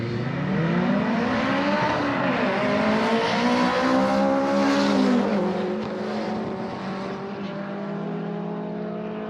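A Cosy Mark I and a Honda VTEC Turbo powered Mark II race on a track, engines wailing and rising in pitch through gear changes, loud and sustained, with a brief swell as they pass and then fade slightly.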